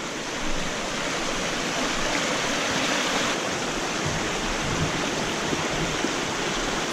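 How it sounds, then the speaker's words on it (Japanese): Spring water gushing at the source of a mountain stream near a trailhead through old-growth forest, a steady, dense rushing roar heard up close and unbroken throughout, with no talking. "この辺りがね湧水源流だそうです。"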